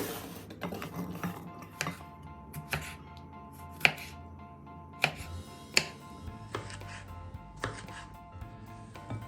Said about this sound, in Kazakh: Помидор қиярды осылай турап шығамыз.